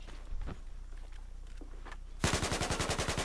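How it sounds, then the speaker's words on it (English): Battlefield 4 gunfire in a Conquest match on Dragon Pass: a few scattered shots and footsteps, then a sudden loud, rapid, evenly spaced machine-gun burst that carries through to the end. "Oh, I'm still getting shot at."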